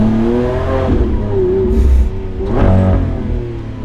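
Lamborghini Aventador SVJ Roadster engine revving loud and close, two rising surges of throttle with a brief dip between them, heard alone without talk.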